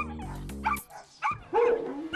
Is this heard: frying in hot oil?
no